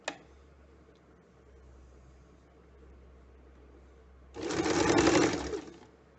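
A sewing machine stitches the edge of a pillow cover in one short, loud whirring run of about a second and a half, after a stretch of low room hum.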